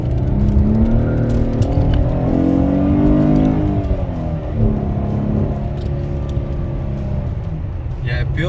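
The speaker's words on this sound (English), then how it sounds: "So I'm going to put it on the race mode and then all the way up" A car accelerates hard in race mode on a freeway, its engine note sweeping up through rising harmonics, easing off, then climbing again over a loud, continuous road roar inside the cabin.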